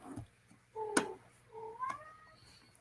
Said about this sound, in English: My cat's meowing because doesn't know what to do